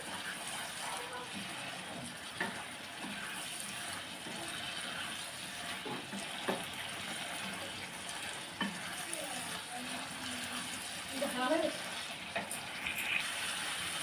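Papaya vegetable sautéing in a pan, a continuous moderate sizzle with occasional spoon scrapes and knocks against the pan, busier stirring clatter near the end.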